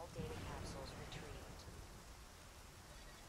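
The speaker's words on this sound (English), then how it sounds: "we just kind of hang out for a while the rain happens" Steady rain hisses in the video game Armored Core 3 as a dense, even wash of noise, with a few faint tones drifting over it.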